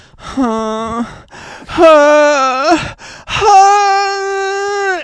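A voice imitates snoring with three long, loud, drawn-out moaning tones separated by brief pauses, each strained and voiced.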